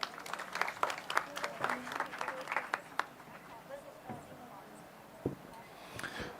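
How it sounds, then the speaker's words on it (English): Applause from an audience at an outdoor Red Run event on a sports ground breaks out after a speech, brisk scattered clapping that fades after a few seconds, faint and distant, with some talk. "that definitely deserves a louder round of applause"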